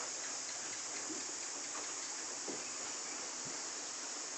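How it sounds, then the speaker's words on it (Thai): Rain falls steadily on a goat and sheep farm in the rainy season, making a constant, even hiss with a few faint drips. "ตื่นมาฝนกำลังตกนะครับ"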